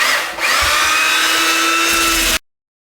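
A power sander fitted with 175 grit sandpaper runs over a wooden sign, making a loud steady motor whine with a brief dip near the start, then stopping abruptly after about two and a half seconds.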